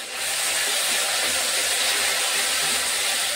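Ground spices with salt and turmeric frying in a pan, giving a steady, bright, close sizzle that holds throughout with no talk over it.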